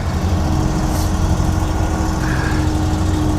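A gas-powered firewood processor with a disc cleaner and stacking conveyor idles steadily to warm its oil, a loud, constant low engine drone with no change in pace, close by and without talk.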